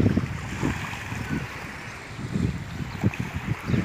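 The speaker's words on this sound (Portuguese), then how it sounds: "Saiu o mar aí pra vocês aí, ó." Sea waves wash onto a beach in São José, a soft, continuous surf roar with gentle rolling swells and some wind buffeting the microphone, heard close with no talking.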